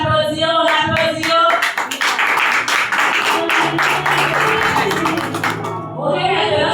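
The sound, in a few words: applause from parents at a school ceremony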